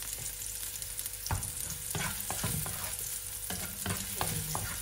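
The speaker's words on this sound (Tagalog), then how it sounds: "Gisa lang natin yung bawang." Garlic sautés in a hot pan for bok choy with shrimp, a continuous close sizzle broken by repeated scraping and clacking stirring strokes.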